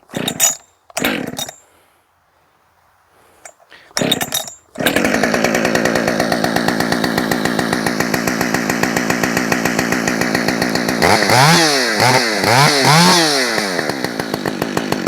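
A few sharp pull-cord bursts, then a Husqvarna 565 chainsaw with a modified muffler fires up and runs steadily up close, its engine rising and falling as the throttle is worked.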